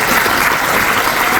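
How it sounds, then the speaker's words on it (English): A large convocation audience applauds graduating students at a university ceremony in Bangladesh, a loud, dense, unbroken roar of clapping with no gaps. "Let's have a huge round of applause for all these graduating students."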